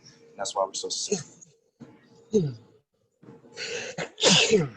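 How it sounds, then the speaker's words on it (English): A sharp human sneeze bursts out near the end, right after someone speaks, loud and close at a post-game press conference. "now that I'm done sneezing"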